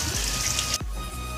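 Rain falling during an evening at home, a steady, close hiss of drops with no speech, briefly dipping partway through before continuing.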